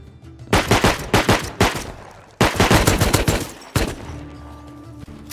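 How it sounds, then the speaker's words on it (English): An auto turret in the video game Rust fires long, loud automatic bursts at close range, broken by short pauses, with a single final shot trailing off. "Come on, turret. Shoot him."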